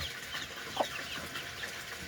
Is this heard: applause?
no